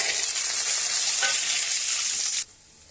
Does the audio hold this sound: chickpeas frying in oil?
yes